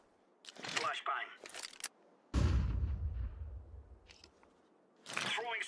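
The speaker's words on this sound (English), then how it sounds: "Deploying flashbang." A flashbang grenade goes off in a Counter-Strike match as one sharp, loud burst that fades into a decaying rumble. Voices talk in short bursts before and after it.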